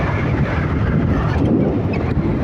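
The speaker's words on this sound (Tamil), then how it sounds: "காற்று ரொம்ப ஓவராக இருக்குதுங்க." Strong gusts buffet the microphone outdoors, a loud, low continuous rumble with fluttering surges and no speech.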